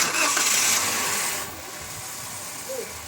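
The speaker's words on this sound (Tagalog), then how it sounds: "Tapos pwede nyo nang start itong makina." A Toyota Avanza engine cranks and catches, settling into a steady idle hum after a brief louder burst at the start.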